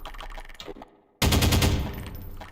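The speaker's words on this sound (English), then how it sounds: "Let's see this OSCW. Pretty cool. Kind of works like an SMG." A sustained burst of rapid automatic fire from the OSCW, an SMG-like gun in a Half-Life 2 beta mod game, begins abruptly and stays loud and dense, following quieter game sounds and a near-silent gap.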